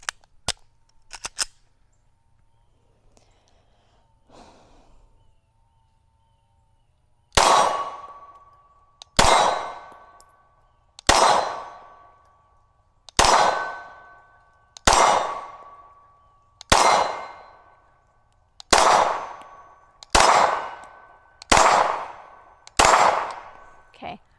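Ten sharp pistol shots from a Walther PDP with a red dot sight ring out at an outdoor range, each followed by a bright metallic clang off steel targets, fired at a steady, unhurried pace after a few scattered handling clicks.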